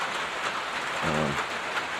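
Steady rain falls on the roof of a dark, unlit shop under insulation work, a continuous broadband patter with a brief low rumble partway through.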